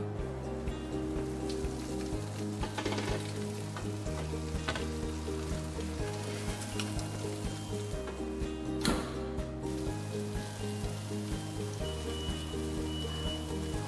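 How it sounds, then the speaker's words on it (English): Steaks and shrimp sizzle steadily in a convection cooker, a soft, continuous crackling hiss over a low, pulsing mechanical hum. "Can you hear that sizzle?"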